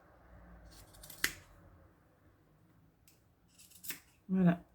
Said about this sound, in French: Voilà, je coupe le surplus.